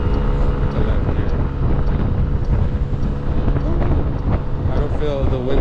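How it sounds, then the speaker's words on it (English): Strong wind buffets the microphone in a steady, loud roar while someone rides outdoors on a windy, sprinkling day, with engine and road rumble underneath and no break across the whole stretch. "I don't feel the wind as much."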